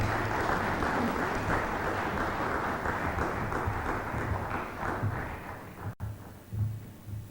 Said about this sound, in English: I think Mr. Hart deserves a second applause